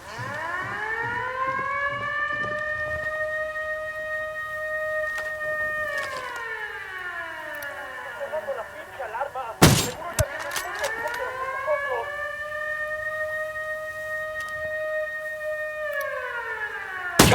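A rising and falling wail of an alarm siren in the video game Ghost Recon Wildlands, cycling loudly and steadily, interrupted midway by a sharp gunshot-like burst and some scattered in-game noise before the siren resumes.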